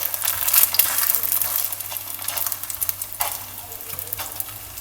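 Parotta cooking on a pan over a low flame, a close, steady sizzle with soft crackling bursts throughout and no talk.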